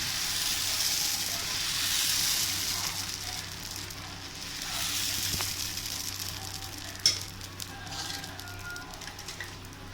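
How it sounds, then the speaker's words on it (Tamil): Beetroot masala dosa batter poured on an oiled dosa griddle sizzles with a steady, close hiss that swells and eases, broken by a light clink near the end. "தோசை கல் வச்சுட்டு அதில் கொஞ்சம் ஆயில் அப்ளை பண்ணிட்டு ஒரு ரெண்டு கரண்டி மாவு ஃபுல்லாக நம்ம ஊற்றி நம்ம தோசை ஊற்றிக்கிறோம்"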